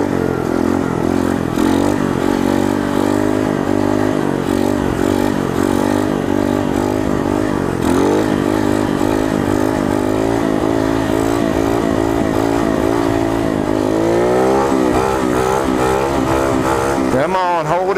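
A Coolster 125 pit bike engine drones loudly and continuously while it pulls wheelies, its pitch rising and falling with the throttle, close up with a person talking over it.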